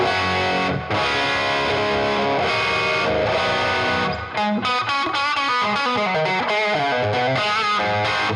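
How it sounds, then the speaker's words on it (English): Overdriven electric guitar on its middle pickup position, a replica of the Gibson "Greeny" Les Paul, with a gritty, distorted tone, strummed chords giving way to picked notes, loud and alone with no talking. "I've always wanted to know what that middle position sounds like with gain on."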